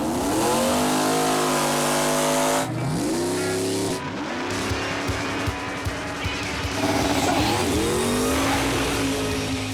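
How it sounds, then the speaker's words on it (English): Four-wide drag racing cars at ZMax Dragway roar and rev loudly, engines rising in pitch as they launch and accelerate down the strip, with one surge dropping and restarting, a constant powerful blare with no talk. "This is drag racing."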